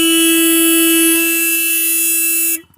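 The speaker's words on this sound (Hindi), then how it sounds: "पहले हम हॉर्न सुन लेते हैं।" A Royal Enfield Guerrilla 450 motorcycle horn blares in one steady, loud, continuous tone for about two and a half seconds before cutting off abruptly.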